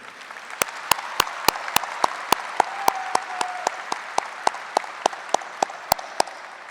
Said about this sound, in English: please join me in giving another round of applause for our high school band and all the performers here this evening